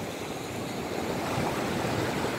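Sea surf at the beach in Bibione, Italy, makes a soft, continuous wash of broken waves, faint and steady with no voices.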